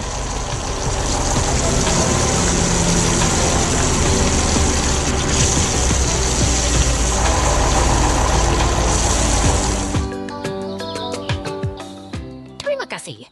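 A green tractor's engine runs steadily and loudly nearby in a cornfield, a continuous rumbling drone that fades out near the end as other sounds take over.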